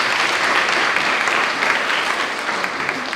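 A junior school audience at a prize-giving claps together in a dense, steady burst of applause that fills the room evenly from start to finish without easing.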